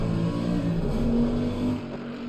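A Mercedes race car engine in the video game Assetto Corsa Competizione at the Nürburgring drones steadily with a deep, even tone, easing off slightly near the end; no voices.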